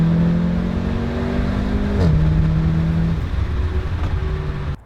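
A stage 1 Audi S3 tuned to about 360 brake horsepower accelerates hard in a short roadside drag race, its engine note climbing steadily then dropping at a gear change before pulling on, loud and close throughout with no talk.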